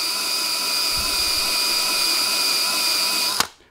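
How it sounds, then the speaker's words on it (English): A power drill spins a 120 grit bore polisher inside a Muncie 4 speed transmission part to strip black oxide coating, a loud steady high whine that cuts off abruptly near the end. "So I'm just removing the black oxide coating. I use a 120 grit bore polisher."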